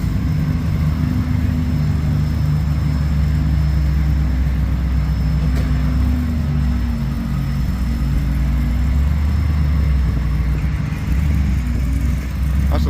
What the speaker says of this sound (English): Popping tires, shredding tires.